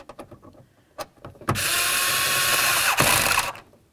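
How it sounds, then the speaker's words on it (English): Power driver spinning a mounting screw into a Chevy S-10 window regulator, a loud steady whir lasting about two seconds with a brief catch midway, preceded by faint clicks and taps. "Now we can start in our mounting screw"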